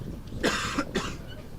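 Two short, sharp coughs close together, fairly close and clear against a quiet background.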